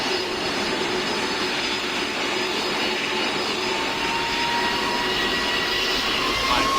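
Jet airliner in the Roblox game PTFS taking off with full flaps, its engines giving a steady, loud, broadband roar that holds evenly throughout with no talk.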